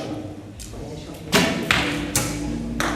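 Arrows shot from a bow during an archery session strike a target, giving several sharp, close thuds spaced roughly half a second apart over quiet background noise.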